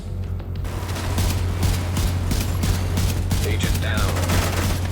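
Rapid gunfire from The Division 2, a Tom Clancy shooter, with dense fusillade bursts and sharp shots rattling continuously throughout under a steady low hum, with a faint voice briefly heard.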